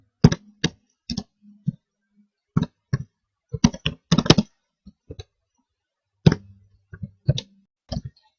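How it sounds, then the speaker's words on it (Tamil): Irregular bursts of computer keyboard typing, close and crisp, with clustered keystrokes separated by short pauses, as Python exception-handling code is entered. "ட்ரை பிளாக்ல ஃபங்க்ஷன் எக்ஸிக்யூட் பண்ண வேண்டிய கோட் டைப் பண்றேன்."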